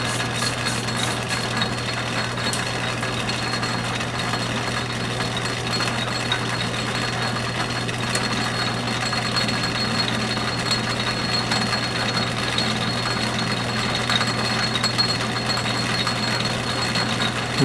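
An Atlas lathe chasing threads on a 1-1/2 inch 6 TPI bolt runs with a steady low motor hum and a faint continuous mechanical whir, with no talking.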